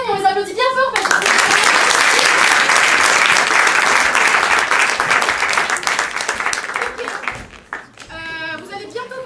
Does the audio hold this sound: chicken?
no